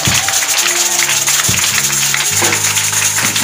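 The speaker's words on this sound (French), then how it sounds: "Est-ce que tu peux acclamer le Seigneur?" A church congregation applauds and acclaims the Lord, with steady dense clapping filling the room for a few seconds. Sustained tonal music or voices ring underneath and shift pitch in several blocks.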